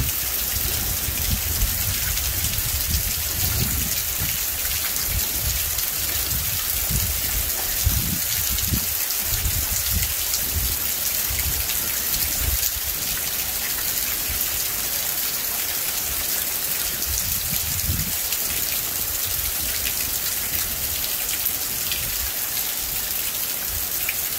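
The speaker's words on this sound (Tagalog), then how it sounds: "Ulan ng malakas, guys." Heavy, steady hurricane rain pours down without pause, a dense hiss of drops drumming on surfaces, loud and close with no voices.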